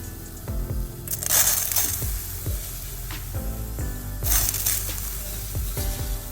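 Washed, still-wet urad dal is tipped into a hot pan on a stove: two loud bursts of hissing sizzle swell and fade, with scraping and stirring noises around them.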